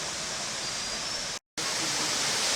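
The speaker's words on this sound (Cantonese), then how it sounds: "我哋而家上到瀑布頂啦。" Waterfall at Ng Tung Chai, heard from its top: a loud, dense, steady broadband rush of falling water, broken once by a brief total silence before the roar resumes unchanged.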